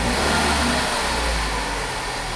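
A car engine with an acceleration fault (codes P2122 and P060D) revs loudly and steadily as the throttle is pressed, a sustained close drone without any speech.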